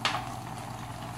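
Stuffed grape leaves filled with minced meat simmer in a pot over the fire, giving a brief, faint bubbling murmur after a soft initial tap.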